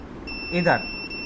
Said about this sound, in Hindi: ये प्लस से मॉसफेट का देखिए इधर वाले पिन पे बीप आ रही है